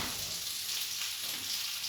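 Potatoes fry in a pan with a steady, even sizzle that stays moderately quiet and unbroken throughout.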